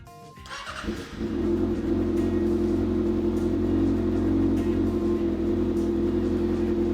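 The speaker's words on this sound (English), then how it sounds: "Let's try starting the bike." A 2019 Kawasaki Ninja ZX-6R with an M4 exhaust and Power Commander V cranks briefly, fires up, then settles into a loud, steady idle rumble heard close up.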